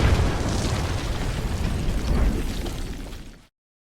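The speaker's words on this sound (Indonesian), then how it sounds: "Dengan besi yang dijatuhkan pada nitro akan memicu ledakan yang cukup besar." A loud, rumbling nitroglycerin explosion in a film roars continuously with a deep boom and crackling debris, then cuts off abruptly into silence.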